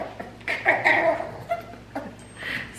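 A dog growls and whimpers while being brushed, giving a few short, close, whiny vocal bursts with gaps between them and no talking.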